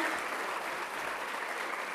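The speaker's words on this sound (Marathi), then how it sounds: "जोरात त्यांच्यासाठी आपण टाळ्या घेऊयात" Steady applause from a crowd, dense and continuous clapping throughout without a break.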